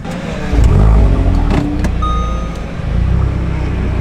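A car with a DSG gearbox rolls around a parking lot, a steady close engine rumble with a low drone and a few faint clicks, no talking.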